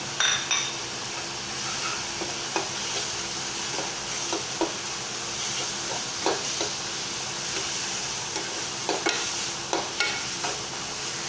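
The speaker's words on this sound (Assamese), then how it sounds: "আৰু অকণমান সময় ভাজি ল'ব।" Fish frying in a pan with khorisa (fermented bamboo shoot), salt, Kashmiri chili and turmeric, a steady close sizzle broken by intermittent clinks and scrapes of a spatula stirring against the pan, with no voices.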